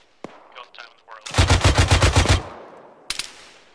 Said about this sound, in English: Some guy up in the rock shooting at me.